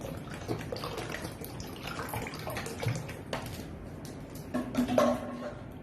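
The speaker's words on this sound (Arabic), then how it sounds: "راح اضيف له مي بارد" Cold water poured in while making apple juice with lemon, a steady close splashing pour that swells slightly toward the end, with no talk over it.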